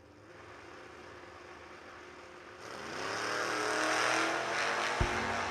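A pair of S10 pickup trucks, one a big-tire truck, launch in a drag race at a New Year Nationals strip; engines idle, then roar loudly and build steadily in a rising wail, with a sharp thump near the end.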